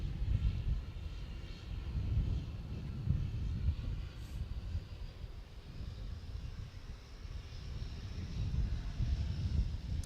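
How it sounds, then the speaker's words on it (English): A Dash 8 Q400 turboprop airliner flying overhead, a steady low rumbling drone with wind buffeting the microphone, holding at a fairly even level throughout. "Now, yet another Dash 8 Q400 is flying to Dubbo."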